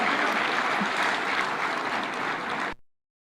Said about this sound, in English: A round for applause to Irungu Kang'ata.